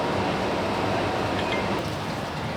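Steady, broad rushing of water pours continuously into a Panama Canal lock without pause, loud and close, with no voices.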